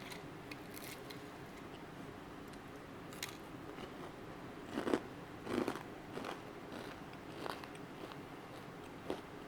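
Several sharp crunchy bites into a crispy fried sabudana vada, spaced irregularly over a quiet background, with a couple of louder crunches in the middle.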